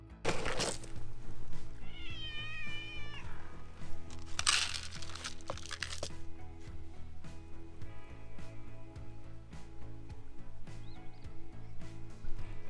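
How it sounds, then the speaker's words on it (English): The shop cat at a photographer's shop gives several close, wavering meows, with crinkling and rustling handling noises in between. "That's the shop cat."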